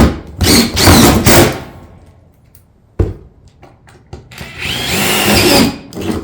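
A power drill driving fasteners into a solar panel mount, with two loud, close bursts of whirring separated by quieter gaps and a sharp knock in between.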